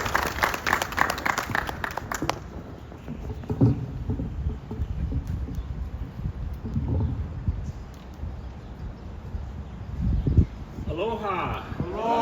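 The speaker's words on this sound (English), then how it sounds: "Let's give him a nice round of applause." Audience at a Korean War armistice anniversary ceremony giving brief applause for a healthcare system director, the clapping crisp for a couple of seconds and then fading under murmured voices and scattered noises.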